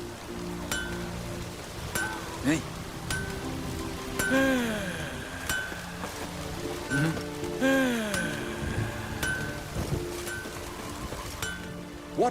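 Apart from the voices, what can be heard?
rain falling in video game The Witcher 3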